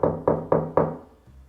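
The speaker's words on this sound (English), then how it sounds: "I knocked on the brick house." Four evenly spaced knocks rap on the door of a brick house, close and fairly loud, followed by a brief quiet pause.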